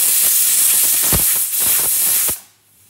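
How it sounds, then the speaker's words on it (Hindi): A pressure cooker whistles as dal cooks: a steady, loud steam hiss runs for about two seconds, then cuts off sharply into quiet. "दाल को 5 सीटी आने तक पकाएंगे।"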